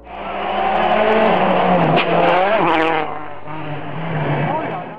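A race car at a Citroën rally roars loudly around a bend, its engine revving up and down as it speeds close past, with a brief tire squeal and people's voices mixed in.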